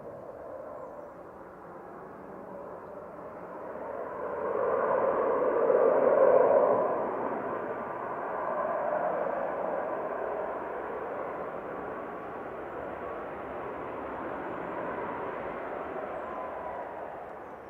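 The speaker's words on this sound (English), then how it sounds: "This is 9HVUJ, a 737 MAX 8-200, operating flight 1154." A Boeing 737 MAX 8-200 arriving at Manchester Airport gives a distant, muffled low engine roar that swells to a peak and then holds at a steady drone.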